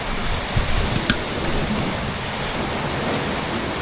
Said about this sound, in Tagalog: nagbagyo na. Sobrang ulan.